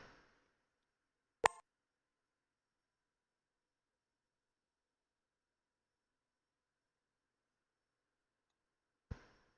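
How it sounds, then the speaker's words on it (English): A short, bright notification chime pops up once on a PC while Skyrim is launching through Steam, followed by long silence and another brief blip at the very end. "What was that notification sound?"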